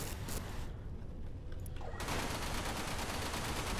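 Spaceship laser weapons firing during an Everspace space fight against an outlaw drone, a dense, continuous barrage of loud, harsh bursts that briefly thins out before surging back full and steady.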